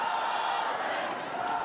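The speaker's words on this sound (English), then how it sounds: "Shouts of Scotland, Scotland." Rugby crowd at a Scotland versus France women's Six Nations match, a sustained roar of chanting voices filling the stadium, steady and dense without break.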